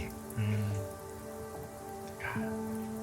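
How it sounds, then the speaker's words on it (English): Steady rain patters on a surface ahead in a fantasy role-play game scene, a soft continuous hiss layered under sustained musical tones. "Hear the rain up ahead"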